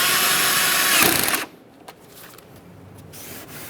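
A power driver runs a Phillips head screw into a car's fender liner on a 2007-2013 Acura MDX. There is a loud whirring burst for about a second and a half, then it cuts off, leaving faint clicks and quiet.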